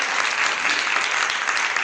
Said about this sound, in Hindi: सुशील चौधरी जी के लिए जोरदार ताली